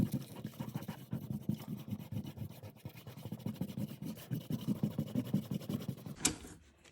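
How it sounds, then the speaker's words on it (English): Pencil eraser rubbing back and forth across paper while tidying a cartoon drawing, a steady close scratchy scrubbing in quick repeated strokes, ending with a brief louder scrape. "All right, we shall erase."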